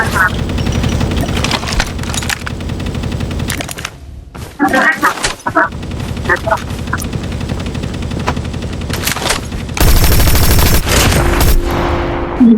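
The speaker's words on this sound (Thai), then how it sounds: "อย่ายิงหลายนัดมาก" Rapid bursts of automatic gunfire in the Call of Duty video game, dense and continuous with scattered shots and louder volleys, with some talk mixed in.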